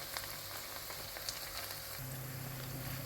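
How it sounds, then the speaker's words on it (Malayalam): Small shallots sizzle and fry in a pan while being sautéed for a Kerala-style squid roast, a steady close crackling hiss with scattered pops and no talk. "ചെറുള്ളി ചേർത്ത് കൊടുത്തൊന്ന് വഴറ്റി കൊടുക്കാം"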